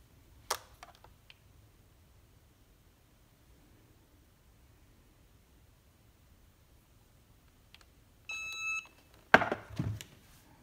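An EasyPress heat press timer gives a short run of electronic beeps near the end, after long near-silence with a few faint clicks, followed by brief rustling handling noise.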